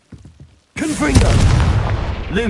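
A Confringo fire spell in Hogwarts Legacy blasts off as a sudden loud boom with a crackling roar that stays sustained and dense for about two seconds. A few short voiced sounds come just before it.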